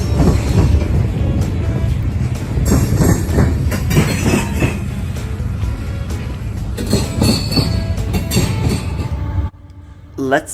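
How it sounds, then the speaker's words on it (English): A mixed freight train led by two GE AC44CW locomotives rolls past close by, with loud continuous rumble, rhythmic clickety-clack of wheels and occasional squeal, before cutting off abruptly near the end. "It is mixed freight or manifest being led by two GE AC-44 CWs and is pulling a number of things."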